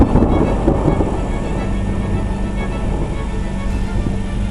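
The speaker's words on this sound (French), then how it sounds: "comme vous l'entendez, il y a beaucoup d'orage" Steady low rumbling of a thunderstorm around a camper van, a continuous broadband roar with no distinct claps, fairly loud and unbroken.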